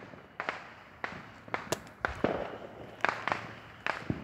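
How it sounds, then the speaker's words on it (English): Distant fireworks pop in scattered, irregular bursts with faint crackling tails, heard outdoors from afar with trees blocking the view, and no talking. "We're firework watching, y'all."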